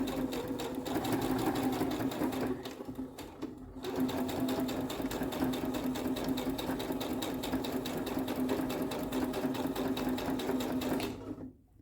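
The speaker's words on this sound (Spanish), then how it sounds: "coloco mi tela bajo el prensatela en la posición de costura, bajo la aguja, sostengo los hilos tensos hacia atrás y vamos a comenzar" A sewing machine stitching curves in fabric, running steadily and close with a fast even needle rhythm, briefly slowing and pausing near the third second before resuming until it stops at the end.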